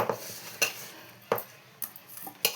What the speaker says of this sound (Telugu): చూసారా, ఇదిగో కలుపుతున్నాము.